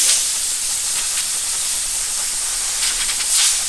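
Compressed air blows steadily out of a polishing pad used with a Rupes random-orbital polisher, making a loud, close, continuous hiss that runs without a break.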